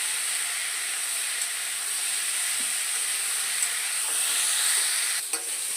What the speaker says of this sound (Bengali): লবণ আর হলুদ দিয়ে আবারও খুব ভালোভাবে একটু ভাজা করে নেব